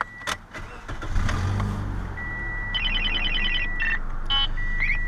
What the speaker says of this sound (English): Now what I do is I turn on the car